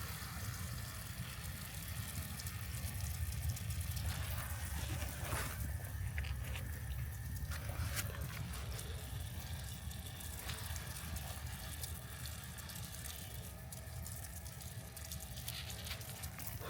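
Water poured from a hose or can into a potted tomato plant in a summer container garden, a steady rushing gush running continuously and fairly loud over low background rumble.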